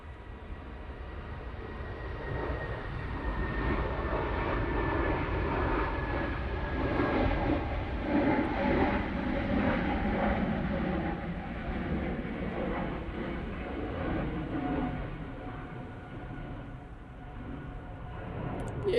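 A Lufthansa airliner takes off from Manchester Airport, its engines a steady broadband roar that holds across the whole stretch, swelling slightly in the middle and easing toward the end, heard from a distance.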